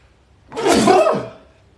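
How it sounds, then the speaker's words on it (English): A single sneeze, close and fairly loud, bursting out after a quiet moment and trailing off within about a second. "And I sneeze."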